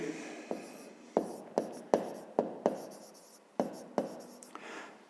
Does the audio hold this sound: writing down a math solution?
yes